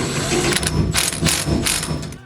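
A ratchet wrench clicks in quick bursts while bolting in a power steering module on a DF Goblin car build. The close ratcheting comes in short repeated strokes with no talk.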